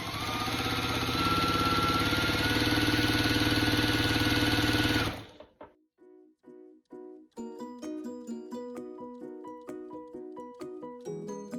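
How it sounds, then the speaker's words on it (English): A sewing machine runs at a steady whirring hum for about five seconds while fabric strips for a jelly-roll quilt block are sewn together, then stops; a rhythmic, melodic sequence of tones follows, and no voices are heard. "I'm going to sew all of them together"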